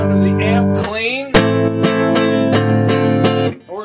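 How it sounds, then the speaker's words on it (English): Les Paul Standard electric guitar played clean through a mid-70s Marshall combo amp, with a sustained chord and then a sharp strum followed by a steady run of evenly spaced picked chords, close and alone. "Here's the sound of the amp clean."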